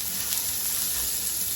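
Onions, celery and carrots sizzle steadily in a hot pan for a turkey pot pie filling, a close, even frying hiss with no other sounds.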